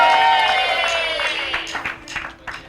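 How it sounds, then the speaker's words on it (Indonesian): A studio audience on an Indonesian TV show gives a short burst of clapping for a guest. It is loud at first, then thins into scattered claps as it fades. "Kasih tepuk tangan dulu dong"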